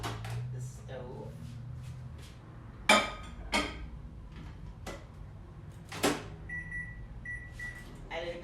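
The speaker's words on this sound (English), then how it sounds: "pepper with pork and into the microwave because none of I have patience for the stove." A microwave oven runs steadily while heating pork seasoned with black pepper in a home kitchen, a low hum under clicks and clunks of door and cupboard, then a few soft beeps near the end.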